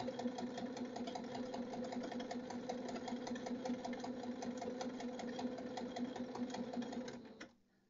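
A sewing machine stitches fabric while a corner is mitered for a patch pocket, with a rapid, even mechanical chatter running loud and close for about seven seconds before stopping abruptly.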